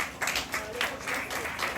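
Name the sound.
audience applause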